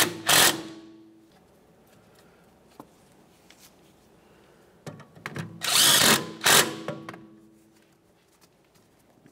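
Power tool snugging strut mounting bolts on a 1994-1997 Honda Accord during front strut and spring assembly replacement: two short bursts near the start and a louder cluster of bursts around the sixth second, with quiet gaps between.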